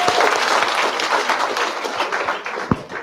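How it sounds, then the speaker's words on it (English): A crowd at a party youth league gathering in a community hall applauds steadily, dense clapping filling the room at a fairly loud level throughout. "I want each one of you to give yourself a round of applause"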